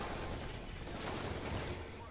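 Tank cannon and machine-gun fire from the War Thunder battle game, featuring a 1971 T-64A tank, rumbling as a dense, continuous barrage of shots and explosions under voice chat.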